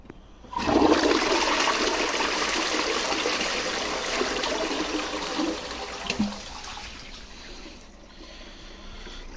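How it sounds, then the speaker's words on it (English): A Bog in a Box toilet, made in 2025, gives a strong close-up flush: a sudden loud rush of water that holds steady for several seconds, then tapers into trickling refill. "That's a decent flush, mind you."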